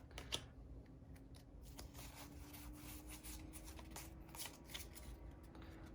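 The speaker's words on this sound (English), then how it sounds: "Can't get the cards out to save my life." Freshly opened Evolving Skies Pokémon booster pack cards being pulled and slid out of the foil wrapper, a close run of crinkly rustles and scraping rubs without talking.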